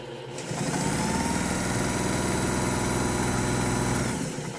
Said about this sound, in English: I have never seen a machine sew this well. Here, I'll give you, just so you can listen to it a little bit.